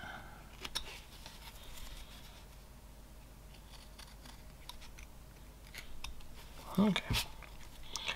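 A knife carves a flat-plane Viking figure from wood with faint, scattered scraping and clicking cuts, a little busier near the end, as a voice briefly speaks.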